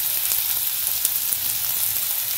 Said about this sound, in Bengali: তো এটা একটুখানি লাল লাল ভাজা ভাজা হয়ে আসবে পেঁয়াজটা